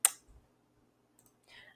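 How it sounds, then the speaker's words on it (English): A single sharp computer mouse click at the start, followed by faint quiet room noise and a brief soft sound near the end. "And then let's just click."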